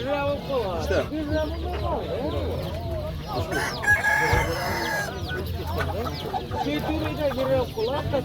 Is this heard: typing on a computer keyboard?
no